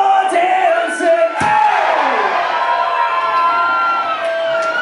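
A concert crowd at a show in St. Catharines screams and cheers loudly, a dense wall of many shouting voices with whoops rising above it, sustained without a break.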